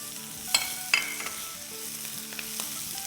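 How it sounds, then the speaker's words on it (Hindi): Tomatoes frying with vegetables in a pan, a steady close sizzle with a few sharp clinks and stirring scrapes, no voices. "अब इस पॉइंट पर हम ये डाल देंगे टमाटर"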